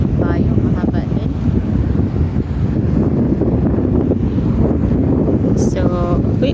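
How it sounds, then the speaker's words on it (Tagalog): Strong wind buffets the microphone on a Jeddah rooftop, producing a constant loud roar throughout. "lakas ng hangin, grabe yung hangin"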